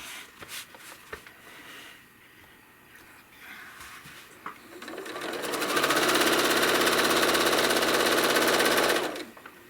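A home sewing machine quilting fabric runs in a fast, steady whir of rapid stitching for several seconds, after some quiet handling noises and clicks.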